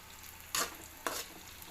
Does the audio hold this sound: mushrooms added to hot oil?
yes